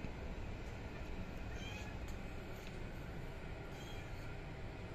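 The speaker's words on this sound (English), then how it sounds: "Meow, meow, meow." A cat meows faintly a few times, distant and thin, against a constant hiss of background noise.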